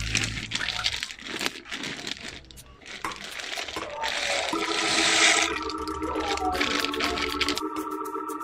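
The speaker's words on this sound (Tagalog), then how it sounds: "Since kumukulo na itong tubig, i-add ko na itong Remo Zita Penne." Remo Zita penne pasta is poured into a pot of boiling water, with dry pasta clattering and rattling against the metal and plastic packaging crinkling, followed by a steady bubbling hiss of water on the stove.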